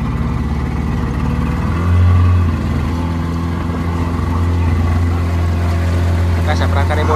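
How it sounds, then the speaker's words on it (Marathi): Boat engine on a Konkan coast trip in Maharashtra, running steadily with a low droning hum and a car-like firing beat, loud and close throughout, a brief surge in the middle, with faint voices over it. "आमच्या बोटीचं इंजिन आहे."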